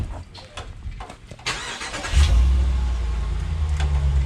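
A 2019 Ram 1500 pickup engine starts after light handling noises, then settles into a loud, steady low exhaust rumble at idle, heard close up with no talking.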